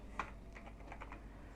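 Fingers type on a computer keyboard, a brief run of soft, quick key clicks, close and faint, with a low background hum.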